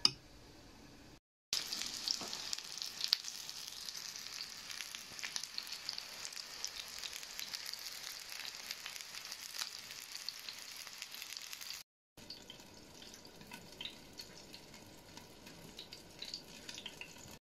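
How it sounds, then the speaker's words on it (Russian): Cutlets sizzle steadily in vegetable oil in a pan, a continuous close crackling hiss that runs without pause, briefly cutting out twice, with no voices. "И сейчас буду жарить с двух сторон на растительном масле."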